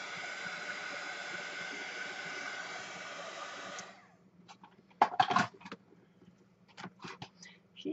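A hair dryer blows a loud, steady whoosh close by over wet artwork for several seconds, then shuts off, leaving quiet room sounds with a few light handling noises and soft talk.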